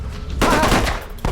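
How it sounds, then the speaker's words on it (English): Bursts of gunfire from the Vietnam War video game Tunnel Rats: 1968, a short loud volley of shots that breaks off abruptly. "We heard gunshots."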